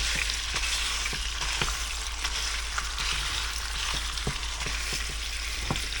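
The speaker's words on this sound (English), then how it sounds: "We're just going to do a simple stir fry." Strips of beef sizzle and fry in a stir fry, a steady loud hiss with scattered crackles and pops running without pause throughout.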